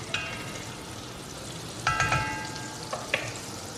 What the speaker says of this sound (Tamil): நம்ம மசாலா எல்லாமே நல்லா கொஞ்சம் சிசில் ஆக ஆரம்பிச்சிருச்சு